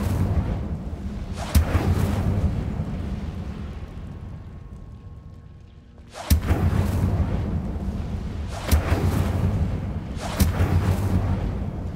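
Incendio fire spell in Hogwarts Legacy, heard as repeated loud fiery bursts, each a sharp onset followed by a roaring, rumbling flare that fades, about four casts at irregular intervals.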